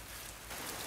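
Steady rain pours down outdoors, a dense even hiss with no gaps through the whole brief moment and no voices.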